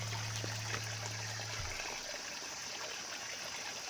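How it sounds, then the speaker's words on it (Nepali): Cold Himalayan glacial meltwater stream on a mountain trek rushing steadily, a broad constant wash of flowing water heard close, with a low hum fading out early on. "यो पुरै हिमालबाट आएको पानी हो यो।"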